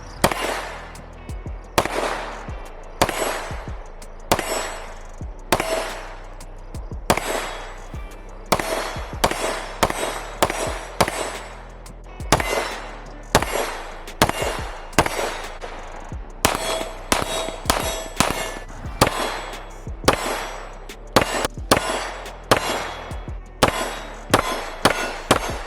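Repeated shots from a 2011 handgun, fired in quick strings with short pauses between them, each report sharp and loud with a ringing metallic tail, continuing steadily throughout.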